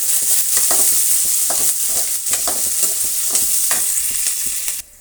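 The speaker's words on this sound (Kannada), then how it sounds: "ಬೆಳ್ಳುಳ್ಳಿ ಒಂದನ್ನು ಸುಳಿದಿಟ್ಕೊಂಡಿರೋದನ್ನು ಹಾಕ್ತಾಯಿದ್ದೀನಿ ಪೀಸುಗಳು ಇವು ಚೆನ್ನಾಗಿ ಫ್ರೈ ಆಗಲಿ" Onion and garlic pieces sizzle steadily in a hot pan, with a spoon scraping and clicking through the mix at irregular intervals. The frying is close and loud and continues without pause until it cuts off near the end.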